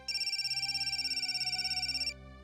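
A telephone rings with an incoming call in a Marathi TV serial scene: a steady, loud, trilling ring pulses evenly for about two seconds, then cuts off abruptly, with no talking over it.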